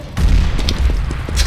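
Grenade blast in the game CS:GO, a loud, close explosion with a deep rumbling boom that trails into scattered lower thuds and crackles, ending in a brighter burst.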